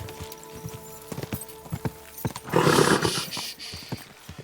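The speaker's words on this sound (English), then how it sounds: "Easy, good horse." Horse hooves clopping in Kingdom Come: Deliverance II, a medieval action game, with a burst of louder movement and snorting midway; in-game voices speak over the steady hoofbeats.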